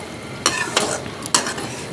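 Chicken pieces frying in a kadai for black pepper chicken, a soft steady sizzle broken by a few sharp scrapes and clinks of a spoon stirring against the pan, close and without talk.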